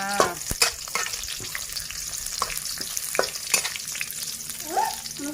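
Garlic sizzles and crackles as it fries in hot oil in a pan, a continuous close frying hiss broken by sharp stirring clicks and scrapes at irregular intervals.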